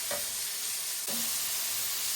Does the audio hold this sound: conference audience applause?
no